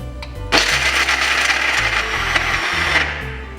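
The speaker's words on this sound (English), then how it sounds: "I just placed the cover over the coffee grinder and I'm going to start milling now." An electric coffee grinder milling cashews for cashew butter starts up with a sudden loud whir after a moment of low hum, then holds a steady, dense grinding roar to the end.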